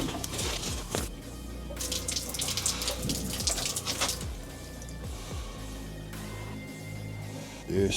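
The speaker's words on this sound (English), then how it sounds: "Why is it when you turn on the pipe, we're getting water back in? Water is coming out of the..." Water rushes out of the line of a hot water tank during a replacement job, a steady gushing flow with some knocks and handling noises.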